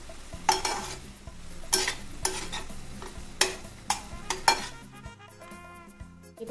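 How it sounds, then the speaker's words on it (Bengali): Onions sautéing in a pan over a medium-low flame, steady sizzle broken by repeated sharp scrapes of a spoon stirring, roughly every half second to second, close and alone with no talk. "দিয়ে এবার পেঁয়াজটা এতে খুব ভালো করে কষিয়ে নেব"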